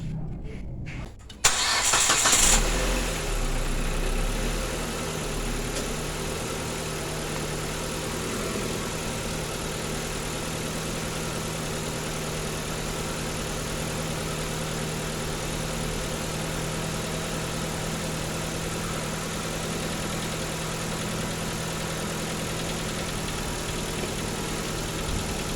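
A car engine cranks and fires, then settles into a steady, loud idle that runs on unchanged, heard up close during a radiator flush while the radiator is being filled with water.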